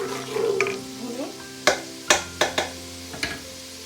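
Green chilies fry gently in oil over a slow flame, a soft sizzle under a few sharp clinks and knocks of a spoon stirring the pan.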